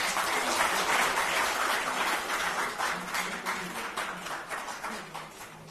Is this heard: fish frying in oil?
no